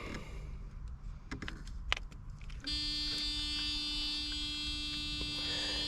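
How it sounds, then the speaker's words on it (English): After some clicks and fumbling, a 1996 Mercedes SL500 R129 door-open warning buzzer starts and holds continuously at moderate volume. "Buzzer comes on, circuit's completed, and the car knows that the door is open."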